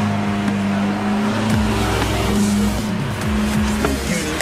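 A Lamborghini Aventador SV drives along a road, its engine droning steadily with pitch shifts as it changes speed, heard loud and continuous from close range without talking.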